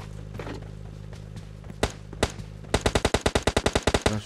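Gunfire in the mobile battle royale game PUBG Mobile Lite: a few isolated shots give way to a rapid burst of about a dozen evenly spaced loud cracks, over a steady low background hum.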